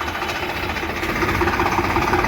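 A tractor engine idles with a steady, rumbling low chug that holds even throughout, close by and moderately loud.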